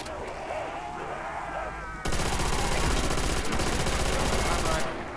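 Rapid automatic-sounding shotgun gunfire from a trench gun in Call of Duty: World at War zombies on the Verruckt map, a dense continuous burst starting after a couple of seconds of game noise and cutting off near the end.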